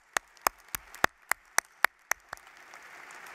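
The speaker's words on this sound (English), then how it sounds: "Give them a big, warm applause." Sparse, separate claps from a commencement audience honoring parents and family, about nine sharp hits evenly spaced, then a low crowd murmur as the clapping fades.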